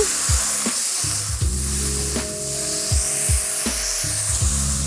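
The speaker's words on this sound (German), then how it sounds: "Und jetzt dann die Zwiebeln mit rein. Auch noch ein bisschen mit andünsten." Onions being sautéed with browned meat in a goulash pot over high heat, a steady broad sizzle with recurring scraping knocks of stirring every second or so, close and fairly loud.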